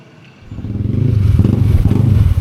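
A motorcycle engine revs up through its exhaust pipe on a rainy Bulacan road, rising from quiet to a loud, steady pulsing rumble that holds close by.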